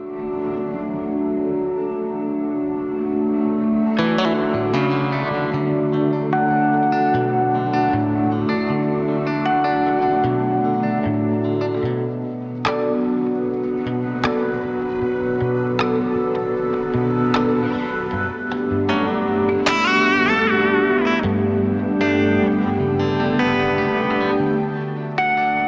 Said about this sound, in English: I'll give you some reverb and some delay